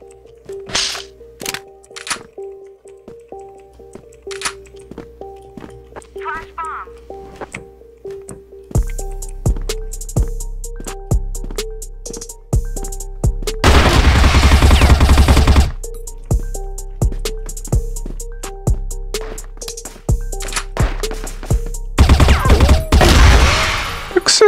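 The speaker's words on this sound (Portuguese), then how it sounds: "Esse cara tá atirando em mim que eu não tô entendendo" Gunfire in an online shooter game: repeated sharp gunshots crack throughout, single shots early, then denser bursts with two loud sustained stretches of heavy fire, all close and loud with no talk.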